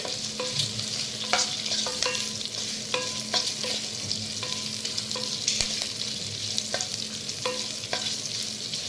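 Vegetables and mushrooms sizzle steadily in a hot pan for mushroom biryani, with a spoon scraping and stirring in repeated clinks and knocks throughout.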